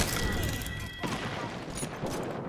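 Rapid automatic gunfire from the Apex Legends video game rattles on in dense overlapping bursts with muffled booms, loud and continuous across the whole stretch.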